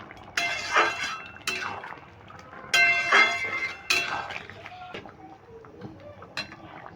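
A spoon clinks and scrapes against a pot while papaya and potato curry is stirred with roasted ground spices and fried dried chilli, in several short bursts separated by quieter gaps.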